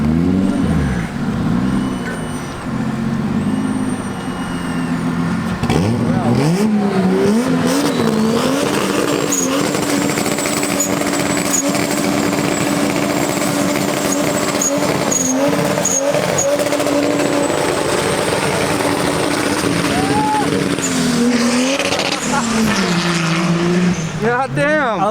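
A 2JZ-swapped Honda Civic engine roars at high revs during a burnout while tires spin and squeal continuously, loud and close, with the pitch rising and falling through the run.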